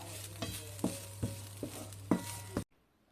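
Grated coconut stirred in ghee in a pan: quiet, evenly spaced scraping strokes with a faint sizzle and a low hum underneath, cutting off abruptly.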